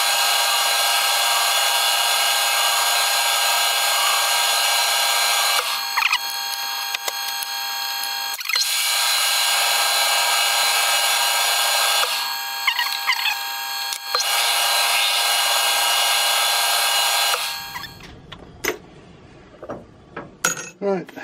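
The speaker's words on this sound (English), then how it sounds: "So we're going to face one end off, then face the other end off" A lathe whirs loudly in long steady runs while facing the end of a plastic leadscrew nut, pausing briefly between passes, then stops, leaving clinks and handling noises.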